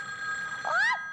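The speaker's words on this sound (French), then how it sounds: "Mais la sonnerie continue de se faire entendre." A telephone rings in an indoor scene from a 1984 children's television program, with a steady electronic tone followed by a brief rising warble and another short burst.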